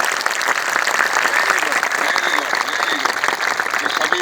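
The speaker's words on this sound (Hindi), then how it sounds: "एक बार सभी ताली बजाओ," Congregation at a religious samagam gathering clapping together, a loud, continuous wave of applause that fills the whole moment.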